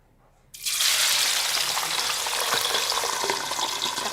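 Meat dropped into hot cooking oil, a sudden loud burst of frying that settles into a dense, steady crackling sizzle, close and alone.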